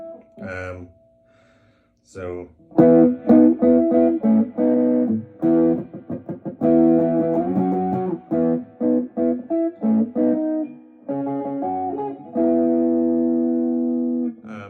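A distorted electric guitar, a PRS SE Custom 22 semi-hollow, plays a series of chords and short notes, loud and close, with brief gaps between phrases.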